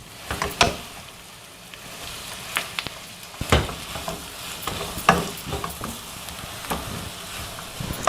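Onion, capsicum and cabbage stir-fried in a pan for cabbage rice, with a steady close sizzle broken by sharp scraping strikes of a spatula at irregular intervals.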